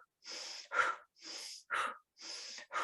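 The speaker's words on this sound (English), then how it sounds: "So that's called breath of fire." Rapid breath of fire exercise: quick forceful nasal breaths alternating in and out, six sharp puffs in an even brisk rhythm, close and alone.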